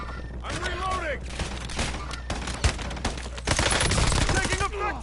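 Sustained bursts of automatic gunfire in a Call of Duty Warzone match, loud and close, with a brief lull before an even denser volley; voices talk over the shooting.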